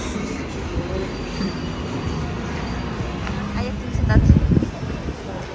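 A tram rumbles past close by on an Istanbul street with a low, steady roll of wheels on rails and a faint metallic squeal, growing louder briefly before easing off.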